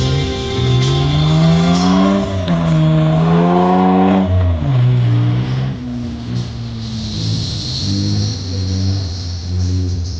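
A British CVR(T) tracked armored reconnaissance vehicle at a tank museum runs with a loud, steady engine drone that rises and falls in pitch as it revs, heard up close and continuous with no talk.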